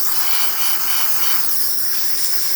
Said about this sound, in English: excellent steam coming out of the machine. Pretty powerful.